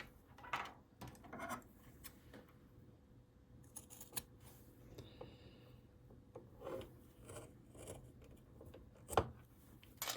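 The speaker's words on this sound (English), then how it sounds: "First thing I'm going to do is trim the corners." Scissors trimming the corners of thick fabric on a small quilted cathedral window Christmas tree decoration, heard as faint, irregular snips and rubbing of cloth close by, with no talking.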